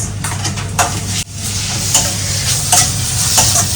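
Roasted eggplant bharit, a Khandeshi mash with coarsely crushed chilli, being stirred and mixed in a pan with very little oil. Steady sizzling runs throughout, broken by repeated scraping strokes of the spoon.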